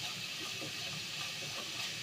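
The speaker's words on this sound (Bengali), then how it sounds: "ঝোলটা বসাবো, তাই মশলাটা কষিয়ে নিচ্ছি।" Spices fry in hot oil in a wok for a fish curry, giving a continuous bright sizzle and hiss at moderate volume without a break.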